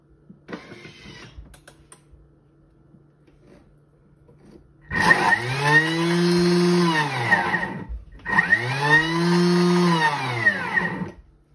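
Thermomix TM6 on turbo mode spinning its blades through dough with the lid off, two loud high-pitched whirring bursts of about three seconds each, each rising and falling, close up with no talk.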